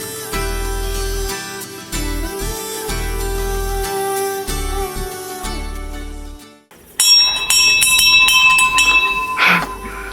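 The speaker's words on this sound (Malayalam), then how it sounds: "ക്രിസ്മസിന് മണിയടിക്കുന്ന പപ്പാനി ആദ്യമായിട്ടായിരിക്കും" A handbell is rung repeatedly by someone dressed as Santa Claus at Christmas, giving loud, bright, rhythmic bursts of ringing, followed by a sharper, shimmering jingle near the end.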